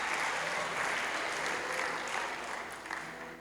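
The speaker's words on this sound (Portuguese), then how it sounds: "Você pode aplaudir o Senhor essa noite?" A church congregation applauds during an evening service, a broad, sustained wash of clapping that stays fairly even and slowly tapers, heard at a distance and fairly soft.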